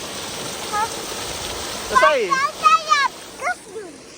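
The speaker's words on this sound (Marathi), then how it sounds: "एवढा पाऊस झालाय" Rain hisses steadily in the background while a person talks over it in bursts.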